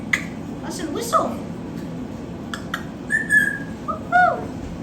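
A pet baby bird gives a few short, clear whistled notes on cue, alternating with a person's spoken prompts and encouragement close by.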